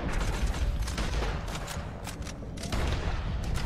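Sustained Gatling gun fire in Red Dead Redemption 2, a dense continuous rattle of rapid shots mixed with booms and battle noise, steady and loud for several seconds with no talking.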